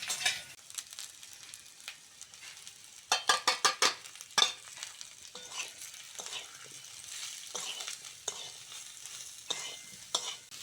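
Spatula stirring cauliflower and potato frying in oil with salt, turmeric and chilli powder, steady sizzling broken by a quick series of rhythmic scraping strokes against the pan.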